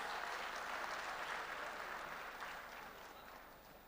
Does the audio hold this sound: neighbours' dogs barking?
no